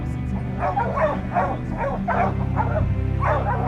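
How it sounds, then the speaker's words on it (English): Hunting dogs bark repeatedly at a bear treed in the woods, a rhythmic series of mid-distance barks and yips overlapping one another against a steady low background hum. "The dogs are barking all around."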